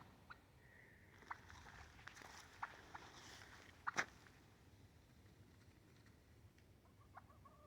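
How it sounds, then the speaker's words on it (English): Chickens cluck faintly in the distance on a small farm in the woods over a quiet outdoor background, with a few sharp little clicks and one louder knock. "There's another one of them chickens I don't like down there."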